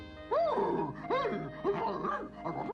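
A dog in a dubbed cartoon barks four times in a steady rhythm, loud and close, with resonant growling yelps and no speech over it.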